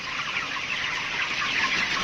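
Chickens at a poultry farm make a dense, steady chorus of clucks and chatter, moderately faint and continuous throughout, with no speech.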